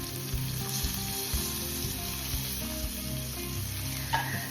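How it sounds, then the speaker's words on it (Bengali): Fish pieces frying in mustard oil, a dense close crackling sizzle running throughout with a low hum beneath and a few light knocks. "মাছের পিসগুলো হালকা করে ভেজে নিয়েছি"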